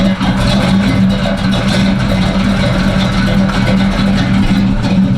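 A Box Chevy with an aggressive aftermarket cam runs in drive, a loud, steady low rumble with uneven, choppy pulsing throughout, close up and filling the scene.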